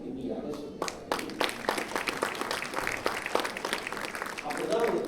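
An audience claps at a comedy talk show in Melbourne, a dense, fairly close patter of applause that continues through the whole stretch.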